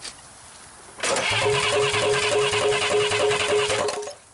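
A 1960s Rambler 195.6 engine with solenoid problems cranks and catches, then runs with a rough, steady mechanical drone and rhythmic chugging before cutting off abruptly.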